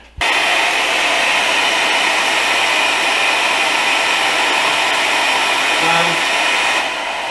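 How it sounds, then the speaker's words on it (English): A hair dryer blows with a steady, loud, whooshing hum that stays constant for several seconds after switching on. "How about a hairdryer?"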